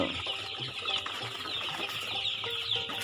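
Tiger breed chickens clucking at a farm, a steady busy mix of soft clucks and chirps from many birds at close range, with a bright high chirping layer and occasional low thumps.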